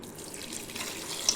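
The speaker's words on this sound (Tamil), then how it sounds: "இப்போ இதில் நம்ம சுடுதண்ணி ஊற்றிக்கலாம்." Very hot water pours into a bowl of goat head meat, a close, steady splashing rush of liquid that goes on without a break.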